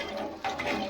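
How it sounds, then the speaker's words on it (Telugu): Water poured from a bowl into a pot of rice for pulao, a short one-second stretch of steady splashing and gurgling with a brief louder surge midway, close and alone. "ఈ గిన్నెతో వాటర్ పోస్తున్నాం మేము."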